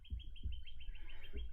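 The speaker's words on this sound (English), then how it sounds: "Can you identify the bird that's making that sound?" A North American bird gives a quick series of bright chirps over low thumps, faint and close, with no talk.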